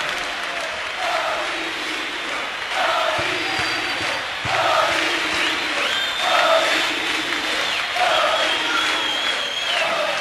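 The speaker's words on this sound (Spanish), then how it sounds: "Y el aplauso nuevamente se renueva para ellos." Live audience at a concert of a Bolivian band, clapping steadily and fairly loud throughout with scattered cheers and shouts from the crowd.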